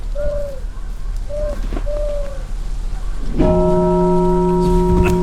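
White doves cooing in an old-school horror video game: a few short, soft descending coos, then a loud sustained droning tone swells in and holds to the end.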